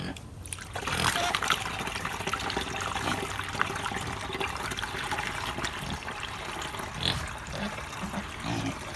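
Water trickling and splashing as it is mixed and sieved into an organic spray solution for apple trees, a steady close wash of liquid lasting throughout.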